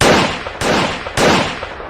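Three sharp gunshots fired in quick succession, evenly spaced about half a second apart, loud and close, each with a short echoing tail.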